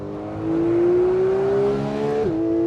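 A Ferrari 458 Speciale or Porsche 911 GT3 engine revs up to 9,000 RPM, its loud, close tone climbing steadily before dropping sharply as the revs fall back.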